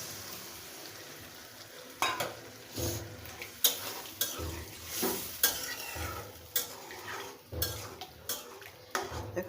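Broth poured into a pot of simmering taro and hilsa fish curry, with steady sizzling and repeated scraping stirs and pot knocks, close and moderately loud with no talk.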